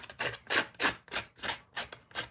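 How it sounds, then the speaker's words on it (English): Scissors scrape along paper edges to distress them for a rustic look, producing eight rhythmic rasping strokes, close and fairly loud with no other sound. "I grab my scissors and I'm going to distress the edges"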